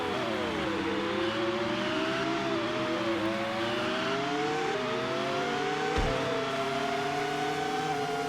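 Formula One cars from the San Marino Grand Prix in an F1 racing video game, a Jordan chased by a Minardi, with engines droning and shifting pitch continuously as several cars run close together, loud and steady throughout.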